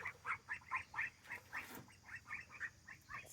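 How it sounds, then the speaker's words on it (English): Ducks on a farm quack over and over in quick, lively bursts with a steady rhythm, fairly close and clear, with no talking. "Hey, ducks."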